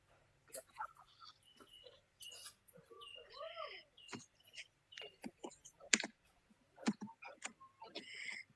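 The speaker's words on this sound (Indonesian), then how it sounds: "Ngetik." Fingers type on a computer keyboard in quick irregular bursts of light clicks, close and quiet, interrupted by a voice talking.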